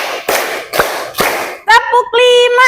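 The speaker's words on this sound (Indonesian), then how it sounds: "tepuk 4," A classroom group claps along to a teacher's counting game, three crisp hand claps in steady rhythm, followed by a short spoken word from the teacher.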